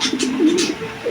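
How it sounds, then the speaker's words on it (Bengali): Cooing from big Indian Afsan grizzle pigeons, a steady low throaty warble rising and falling over about a second, close and fairly loud with no voices. "এই যে কবুতর দেখতেছে, অনেক বিগ সাইজের একটি কবুতর, আফসান গ্রিজেল"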